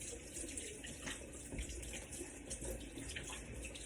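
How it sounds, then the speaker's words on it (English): Water runs steadily from a tap as a hand is rinsed under it, a continuous close splashing hiss with no talking, in a kitchen during bread making. "Just rinse my hand"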